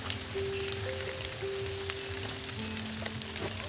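Steady rain hisses and patters continuously, with a faint tonal hum running underneath.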